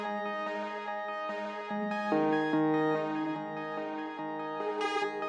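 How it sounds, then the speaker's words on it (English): A randomly generated synth pattern from a Serum 2 patch, with sustained tonal notes that shift in pitch and layer into changing chords, moderately soft, steady in level and without voices. "So basically this pattern, which you just heard, is being randomly generated every time."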